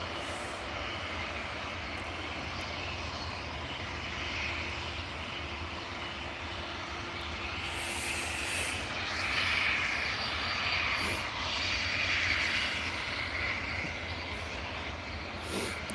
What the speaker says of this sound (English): I thought that ATR just taxied and then done a loop.